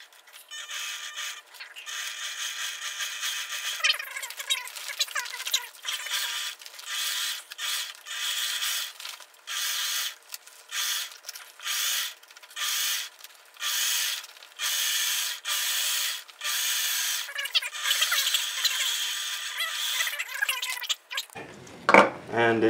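A sewing machine tacks down the seam allowance on a fabric 3D printer cover in a series of short, rhythmic bursts with brief gaps, close and fairly loud.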